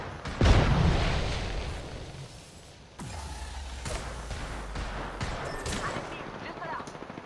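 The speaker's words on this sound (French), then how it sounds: "On me tire dessus." Gunfire and explosions in the Apex Legends battle royale video game: a loud blast, then bursts of rapid weapon fire and sharp impacts at mid distance, with muffled game noise between shots.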